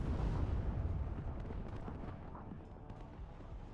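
Missile explosions rumble through a WARNO battle, a dense low blast-heavy roar at moderate level that gradually thins, with scattered sharper bursts over sustained rumble and no voices.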